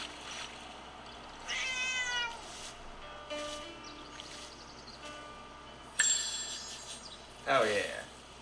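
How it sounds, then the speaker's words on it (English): An in-game cat meows in Where Winds Meet, several short mews spread across the stretch over a soft ambient game soundscape, with a brighter cry near the end. "Kitty perfection."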